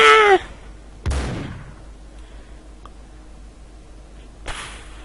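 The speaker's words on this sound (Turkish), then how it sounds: "Oo mermi sekti lan nasıl oldu o iş?" A bullet ricochets in the ragdoll video game Mutilate a Doll 2: a sharp, loud crack followed by a quickly falling whine. Another brief burst cuts in near the end against quiet background noise.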